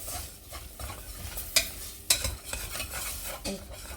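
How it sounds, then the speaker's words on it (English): Onions frying in butter for a vegan creamy spinach dish, a soft sizzle under a spoon stirring and scraping the pan, with two sharper metallic clinks partway through and no voice. "Now we will add in our onions."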